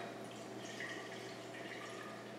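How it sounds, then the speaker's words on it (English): Tea poured gently down the inside wall of a glass kombucha brewing jar, a soft, steady trickle of liquid with faint dripping, heard quietly and close over a low background hum. "You're just going to pour this tea nice and gently, just kind of run it down the side."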